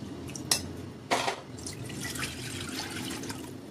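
Half a cup of water from a bowl is poured into kadhi in a kadai pan: two short splashes, then a soft continuing trickle and slosh, close and fairly quiet.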